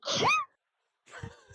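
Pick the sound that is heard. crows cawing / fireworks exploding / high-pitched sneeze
high-pitched sneeze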